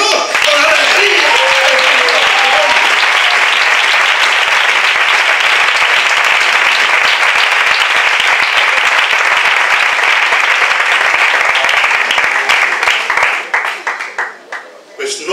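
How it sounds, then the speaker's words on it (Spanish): A congregation applauds at a church service, sustained dense clapping that fills the room loudly for most of the span, then thins out and fades near the end. "Es aplaudirle a Dios con alegría."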